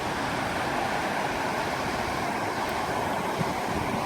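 Broad steady rush of the River Tyne at Wylam by the salmon leap, a continuous close roar of water with gusty wind noise across the microphone.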